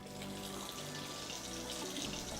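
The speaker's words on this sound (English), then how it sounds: "Pour hot water and boiling water to your chopped chicken for an extra clean" Boiling water pours steadily from a tap or kettle onto chopped chicken, a continuous close splashing rush with no talking.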